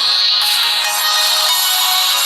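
A song plays loudly through the built-in speakers of an LG Optimus 2X smartphone, a continuous bright, steady stream of music with no talking.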